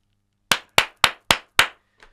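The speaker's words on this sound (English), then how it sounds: "The clap's good too." Five sharp hand claps in a quick, even rhythm, loud and close in an otherwise quiet room, followed by a faint brief rustle.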